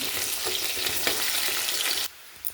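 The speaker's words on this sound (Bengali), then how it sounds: "কচু আর আলু এবার একসাথে ভেজে নিচ্ছি।" Potatoes and taro fry together in oil with a loud, close, continuous sizzle and a few stirring scrapes, then the sound cuts off abruptly near the end, leaving quiet.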